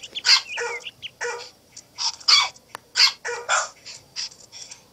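A golden retriever in the Nintendogs+Cats video game barks during a disc competition: about six short, bright, yappy barks come in quick bursts with brief gaps between them, clear and close, with no talking.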